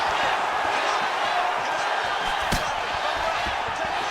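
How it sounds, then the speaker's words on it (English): Arena crowd at a UFC 299 bout between Sean O'Malley and Marlon Vera, a steady dense roar reacting to strikes, with one sharp thud cutting through midway. "you hear the crowd react every time they come together"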